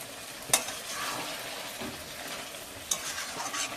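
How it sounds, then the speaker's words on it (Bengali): Meat stirred and fried in a pan after releasing its juices, a soft continuous sizzle with the occasional sharp clink of a utensil against the pan, close but fairly quiet with no talking. "এইভাবে নেড়ে নেড়ে মাংসটাকে ভালো করে কষিয়ে নেব।"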